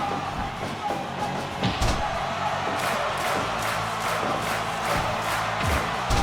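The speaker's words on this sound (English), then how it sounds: "Big double arm DDT as the crowd chants Mag.Lo's name." A wrestling video game crowd chants steadily and loudly in a rhythmic, pulsing roar, with occasional slams and cheers rising through the arena noise.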